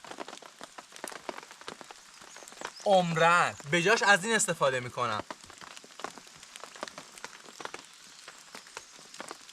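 Rain falls steadily on a swamp forest campsite, a dense close patter of drops on surfaces throughout, with someone speaking briefly over it partway through.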